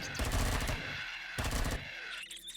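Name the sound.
SMG gunfire in video game Empyrion Galactic Survival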